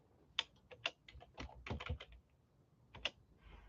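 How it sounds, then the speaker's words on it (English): Slow, hesitant typing on a computer keyboard: scattered individual key clicks with uneven gaps and a couple of sharper taps, close and fairly quiet with no talk. "Y'all got to excuse my slow typing."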